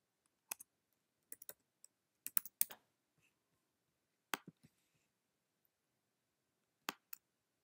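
Short bursts of computer keyboard typing, a few quick clicks and taps separated by pauses, close and fairly quiet with no voices.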